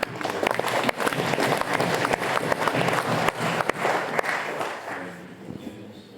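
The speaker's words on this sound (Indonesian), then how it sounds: "marilah kita beri aplaus tepuk tangan" Congregation applauding during a Catholic Mass in a church in Silalahi, a dense, steady wash of many hands clapping that fills the room, then thins and fades toward the end.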